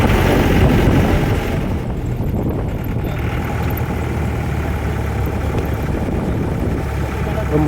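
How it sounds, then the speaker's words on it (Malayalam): A Mahindra jeep engine idles on a road trip through Wayanad toward Kuruva, giving a steady, continuous low rumble with an even, unbroken loudness throughout. "മഹീന്ദ്ര ജീപ്പിന്റെ ആ ഒരു എൻജിൻ സൗണ്ട്"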